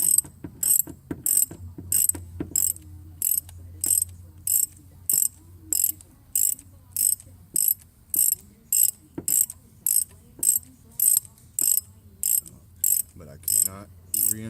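Ratchet clicking in a steady rhythm while a spark plug is worked out of a Ford 5.4L 3V engine, sharp regular metallic bursts close up with quiet gaps between them.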